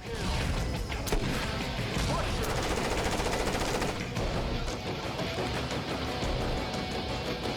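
Rapid bursts of gunfire and blasts from the Rambo light gun arcade game crackle nearly nonstop, with dense rattling shots and a few sharper crashes, loud and continuous throughout.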